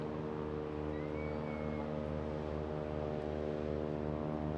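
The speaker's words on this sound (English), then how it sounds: "That unique whine you can hear there coming from the mighty Nimbus engine of the Westland Wasp." A sustained Rolls-Royce Nimbus turboshaft engine whine from a Westland Wasp helicopter at an air festival, with a steady droning hum underneath, constant and moderately distant, with no talking.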